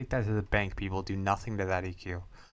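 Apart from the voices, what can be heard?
No everyday noise stands out behind the speech.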